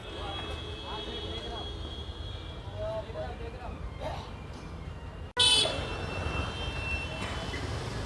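A vehicle horn toots on a busy street during a shopping outing, sounding through steady traffic noise while people talk nearby.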